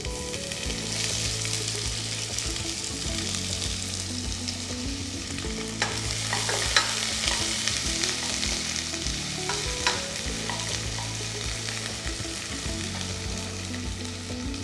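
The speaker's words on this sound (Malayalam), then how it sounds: "ഒരു വലിയ സവാള സ്ലൈസ് ചെയ്തത് അതോടെ ആഡ് ചെയ്യാം." Sliced onion frying in a pan with fennel seeds and cardamom, a steady sizzle with occasional stirring scrapes, close and continuous under soft background music.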